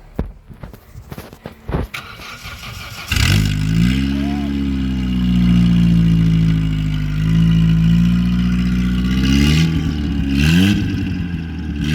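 An Opel car engine idles with a deep, rough rumble after a few seconds of clattering handling noises, then revs up briefly near the end.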